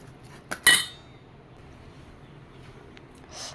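A spoon clinks sharply against a bowl twice in quick succession while coconut chutney is mixed, followed by near silence and a faint soft scrape at the end.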